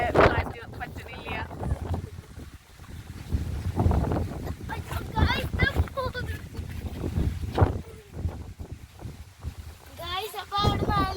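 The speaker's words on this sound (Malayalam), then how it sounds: "നല്ല കാറ്റുണ്ട് ഇവിടെ കേട്ടോ." Strong wind at Pathazhakkundu dam buffets and rumbles against the microphone in low gusts, nearly continuous beneath a person talking throughout.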